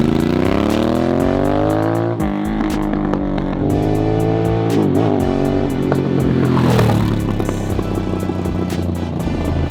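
A Harley-Davidson Sportster S motorcycle with an aftermarket exhaust revs loud and close, its throaty engine note rising and falling through several throttle blips over a steady idle rumble, with no talking.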